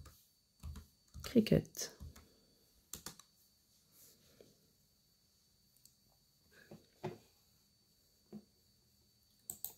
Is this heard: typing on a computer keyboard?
yes